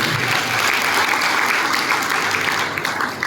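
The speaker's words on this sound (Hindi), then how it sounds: "एक बार मान साहब के लिए तालियां बजवाना चाहता हूँ।" Sustained applause from a crowd at a Diwali get-together of a Vishwakarma community organisation in Jaora, a dense, even wash of clapping that holds steady throughout at close range.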